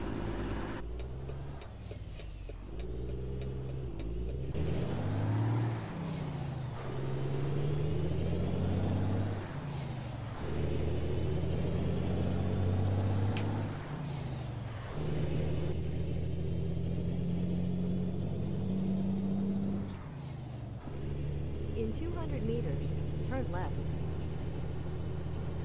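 A Kenworth W900L custom highway build cruising at speed: a steady diesel engine drone rising and falling through gear shifts, with tire and wind rumble and occasional air hiss, heard from inside the cab.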